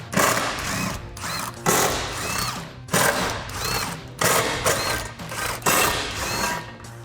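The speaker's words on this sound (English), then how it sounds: "So I'll get a 13mm socket on an impact gun to get these off." Impact gun with a 13mm socket rattling off the exhaust brace bolts of a 2016-2024 Camaro 6.2L, delivered in about six short, loud, hammering bursts separated by brief pauses.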